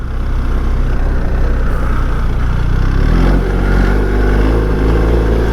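A 2025 BMW R1300 GSA engine pulling cleanly at about 2000 RPM, a loud, steady low rumble from up close that deepens slightly partway through, with no voices.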